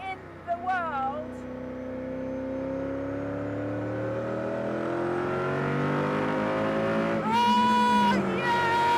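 A Koenigsegg CCXR Edition hypercar accelerates hard, its engine note climbing steadily in a long loud pull before a gear change and a fresh rising surge, heard close from the cabin with brief speech at the start.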